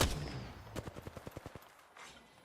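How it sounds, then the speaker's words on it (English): Gunfire in the shooter game Apex Legends: a quick automatic burst of about eight evenly spaced shots, moderately loud and fairly close, with no talk over it. "Taking shots here."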